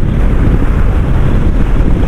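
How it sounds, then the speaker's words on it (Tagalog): Strong wind roars steadily against a microphone during a motorcycle ride in the Bicol lowlands. The gusty buffeting is loud and close and continues without a break, with no talk. "Malakas ang hangin."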